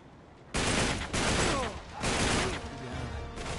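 Loud, dense gunfire from the Uncharted 3 video game: repeated bursts of automatic shots and impacts crowding the foreground, with brief gaps between volleys.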